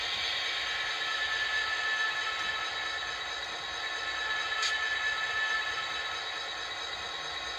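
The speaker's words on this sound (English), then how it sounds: "Number 4 activates the dynamic brakes." An HO scale model diesel locomotive's sound system plays its dynamic brake effect: a steady, even roaring hiss with a faint high whine that holds at a constant level throughout, with no talking.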